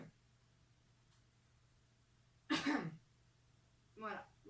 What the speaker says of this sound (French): Moi je vais tousser aujourd'hui.